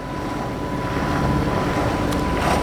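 A sailboat motoring under engine power on a windless day, giving a steady, loud wash of engine drone and rushing water with wind buffeting the microphone throughout, and no talking.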